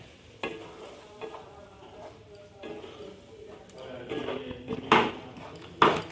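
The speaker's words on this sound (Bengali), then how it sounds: "দিয়ে এইভাবে নাড়িয়ে আমি আবার ঢাকা দিয়ে দেবো।" A spoon stirs chicken kosha masala, loosened with a splash of water, in a pan. Soft sizzling sits beneath scattered scrapes, with louder clattering strokes toward the end.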